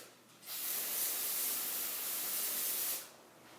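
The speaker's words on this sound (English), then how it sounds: "just spray where the shaft comes through the bearing on both sides" An aerosol can sprays lubricant onto the bearing where the shaft passes through a garage door spring, a single sustained hiss of about two and a half seconds, close and even, with quiet before and after.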